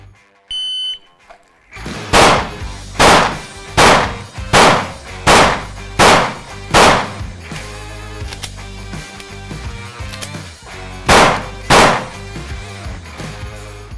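Pistol shots at a shooting range, loud and close, fired in a steady series of about nine separate cracks with short pauses, then two more after a gap, following a brief electronic beep.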